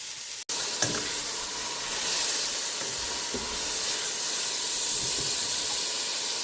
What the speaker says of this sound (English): I'm going to throw the lemongrass and the Scotch bonnets in there as well to go ahead and cook along with everything.